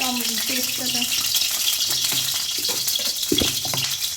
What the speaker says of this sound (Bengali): কড়াই তেল দিয়ে নিচ্ছি